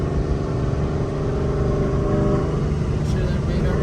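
An 800-horsepower Mustang in track mode, its exhaust a loud, steady, low rumble that drones on continuously with no breaks, heard from close by with a little talk underneath.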